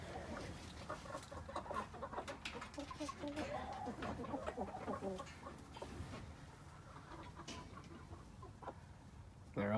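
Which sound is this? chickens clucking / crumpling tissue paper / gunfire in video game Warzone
chickens clucking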